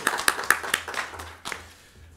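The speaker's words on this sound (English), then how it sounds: "And can we clap it up for President Jenkins?" Audience clapping for a university president at an academic symposium on justice in Baltimore, a few sharp claps at first and then thinning out over two seconds, with a low hum underneath.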